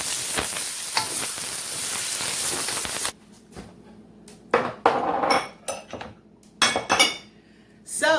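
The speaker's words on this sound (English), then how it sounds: "So I'm just going to stir fry these until the leaves become nice and wilted" Bok choy stir-fries in a pan with a loud, close sizzle for about three seconds, then quieter stretches punctuated by scraping and clinking of a utensil against the pan as the leaves are tossed and wilted.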